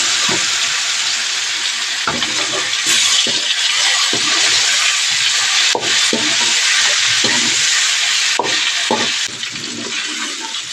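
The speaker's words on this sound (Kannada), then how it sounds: "ಇವಾಗ ಚಿಕ್ಕ ಚಿಕ್ಕದಾಗಿ ಕಟ್ ಮಾಡ್ಕೊಂಡಿರೋ ಪನ್ನೀರ್ನ ಈಗ ಎಣ್ಣೆ ಒಳಗೆ ಹಾಕಿ ಸ್ವಲ್ಪ ಫ್ರೈ ಮಾಡ್ಕೊಳ್ತೀನಿ" Cubes of paneer fry in hot oil seasoned with turmeric and salt, giving a steady, close, loud sizzle with occasional soft knocks of stirring throughout.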